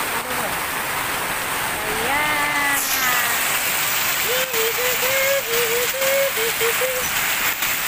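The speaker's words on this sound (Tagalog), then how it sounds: "Ang lakas ng ulan, oh!" Heavy rain pours down in a constant, loud hiss of water hitting surfaces, while people talk and call out over it.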